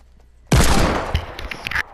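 Fortnite gunfire erupts abruptly in a loud, close burst of rapid shots that rattle on for over a second before cutting off, with no voices.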